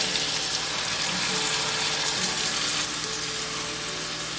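Tomato puree hitting a pan of sautéing onion, capsicum and zucchini for pink sauce pasta, a loud steady sizzle and hiss held close throughout, no voices.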